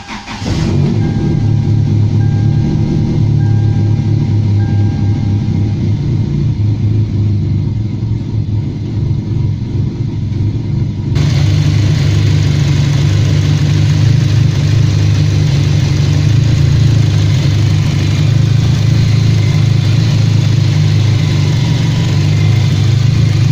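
A car engine fitted with a newly installed turbo runs at a steady, loud idle, a deep continuous rumble with a brighter whine joining partway through, close and uninterrupted.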